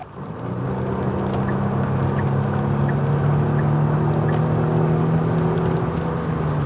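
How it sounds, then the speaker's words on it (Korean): A Kia Stinger 3.3 sedan in sport mode on a highway, its active engine sound giving a steady droning hum inside the cabin as it accelerates, with no one talking. "액티브 엔진 사운드가 나는데 그렇게 즐겁지는 않아요"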